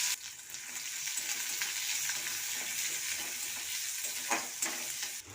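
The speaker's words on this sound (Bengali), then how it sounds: "এবার কুচনো পেঁয়াজ দিয়ে দেবো" Chopped onions hit hot oil with whole garam masala and cumin, setting off a steady, close sizzle and crackle with light stirring noises, no voices.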